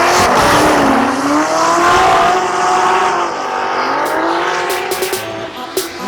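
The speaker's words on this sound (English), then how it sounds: "the amount of wind and just noise and dirt that hits you as they're coming through this last turn" Formula Drift cars sliding through the last turn, a loud, close roar of engines with rising and falling pitch and squealing tires, tapering toward the end with a few sharp pops.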